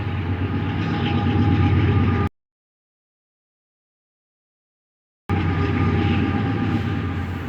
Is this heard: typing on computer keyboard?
no